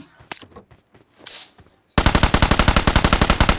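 Automatic gunfire from a gun in a video game: after a second of faint clicks and soft interface sounds, a loud, rapid burst of about sixteen evenly spaced shots rings out up close.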